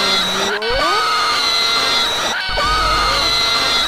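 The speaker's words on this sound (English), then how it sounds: "Why are they screaming all these times?" Characters in the video game Pizza Tower let out loud, sustained screams that swoop in pitch. There are two bursts, each with a sharp glitchy cut, and the screaming is close and harsh with no talk over it.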